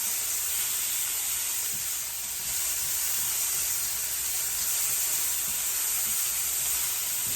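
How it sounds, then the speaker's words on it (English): Chicken pieces with soy sauce or liquid aminos sizzling in a hot frying pan for hibachi-style cooking, a steady bright hiss and crackle with faint stirring clicks, close and continuous. "You want to continuously move your chicken around in the frying pan."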